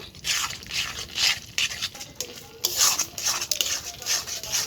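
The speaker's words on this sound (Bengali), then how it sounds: "চাল আর নারকেলটা আমি আবারও ভালোভাবে একসঙ্গে মিশিয়ে নিয়ে জাল দিয়ে নেব" Rice and coconut being stirred together in a hot pan for a village-style palm pitha, a steady scraping and rustling with rhythmic strokes, close and moderately loud, no talking.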